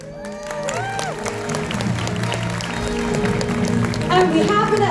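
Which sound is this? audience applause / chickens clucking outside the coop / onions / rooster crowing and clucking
audience applause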